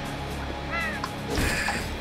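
Crow-like cawing comes from a bird in the video game Slain, a couple of raspy caws over a dark, droning in-game music bed, with a low impact thud in between.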